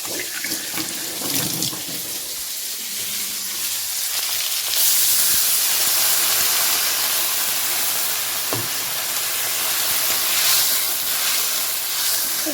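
Water is poured into a pan of frying potato greens, a steady rushing pour that turns into a loud, sustained hiss of steam and sizzle, heard alone without talk.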